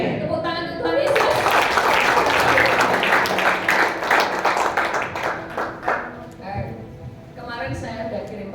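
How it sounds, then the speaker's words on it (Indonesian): Congregation clapping during a church worship service, a sustained round of dense applause rising after a spoken line, then thinning into scattered claps before a voice resumes speaking. "Tepuk tangan untuk Tuhan Yesus."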